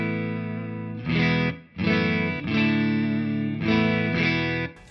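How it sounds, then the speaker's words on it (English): Hamstead Artist 60+RT guitar amp played completely clean with a touch of reverb, a few sustained electric guitar chords strummed in separate bursts with short gaps, close and clear. "This is what the amp sounds like completely clean."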